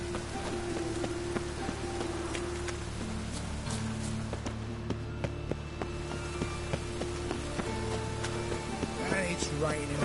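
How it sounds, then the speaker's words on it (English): Steady rain patters on surfaces in The Witcher 3: Wild Hunt, a soft, even hiss with scattered drops that continues throughout at a moderate distance. "And it's raining again."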